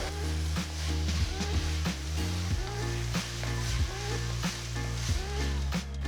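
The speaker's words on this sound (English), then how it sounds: "Mix everything well." Fried rice seasoned with soy sauce, chilli sauce and salt is stirred in a hot pan for Singapore fried rice: a soft steady sizzle broken by regular scraping stirring strokes about every half second.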